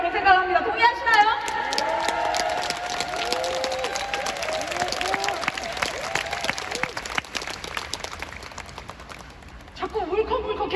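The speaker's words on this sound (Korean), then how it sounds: "자꾸 울컥울컥해서 제가 자꾸 박수를 유도를 하네요" Audience applause at a leadership training event, a sustained spread of clapping and crowd noise while a voice talks over it before and after.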